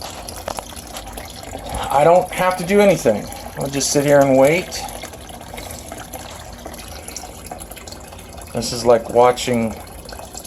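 Water pumped into an aquaponics tank runs as a steady trickling wash beneath a man's speech, filling the tank before a siphon triggers.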